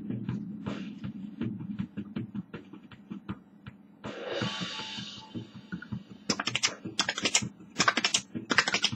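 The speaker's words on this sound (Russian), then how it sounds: "И у меня клавиатура уже пикает." Computer keyboard keys are pressed fast and repeatedly during a Syphon Filter 3 game session, a close clatter of clicks that turns into sharper, brighter tapping toward the end.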